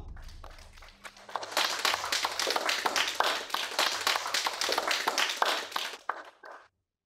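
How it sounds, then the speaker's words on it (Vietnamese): Enthusiastic applause from a gathered group at a celebration of a company winning a construction bid, dense rapid clapping building in and holding steady for several seconds before stopping abruptly, with a brief murmur of voices at the start. "chúng ta dành một tràng pháo tay nhiệt liệt chúc mừng công ty Lân Lý trúng thầu"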